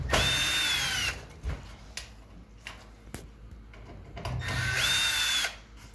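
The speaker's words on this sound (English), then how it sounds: "You would just unscrew these 3 screws here, pop it off." A cordless drill-driver, used as a Phillips screwdriver, backs screws out of the panel of an Electrolux dryer during a heating element repair, sounding as two close, loud whirring bursts at the start and end with quieter handling noises between.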